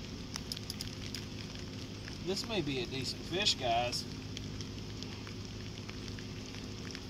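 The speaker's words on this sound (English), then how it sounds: "As you can see, it's still raining. Yes, it's still straight up pouring." Heavy rain pours steadily during a striped bass and catfish fishing trip, a constant hiss beneath someone talking briefly mid-clip.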